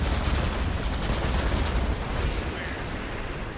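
A space station special attack in the StarCraft 2 video game erupts into a loud, rumbling explosion with dense crackling bursts, booming steadily before tapering slightly toward the end.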